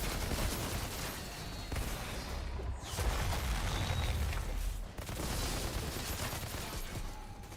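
Gunfire from the Outriders shooter rattles in dense, overlapping volleys, sustained and moderately distant, with occasional heavier booms.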